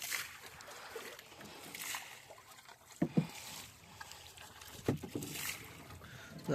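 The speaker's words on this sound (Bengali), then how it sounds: "নৌকা চালাইতেছি ভিডিও করতেছি" Someone rows a boat on a fish pond, with faint water lapping and a few soft, distinct paddle splashes at irregular intervals in a quiet outdoor setting.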